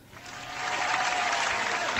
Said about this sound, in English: I can give you applause.